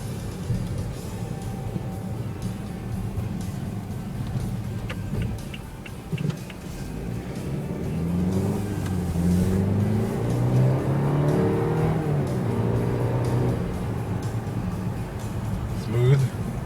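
A 2013 BMW 328i twin-turbo driven on the road, its steady engine hum and road rumble heard from inside the cabin, with people talking over it throughout.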